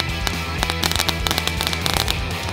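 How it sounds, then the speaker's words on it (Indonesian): Homemade jumbo fireworks crackle and pop nonstop in a dense, fizzing burst of sharp snaps close by, with no talking. "Saya suka bermain kembang api."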